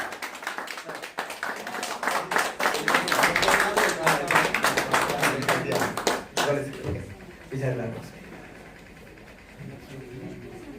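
An audience claps loudly for several seconds, a dense burst of many hands that fades into scattered claps while a voice speaks over the later part.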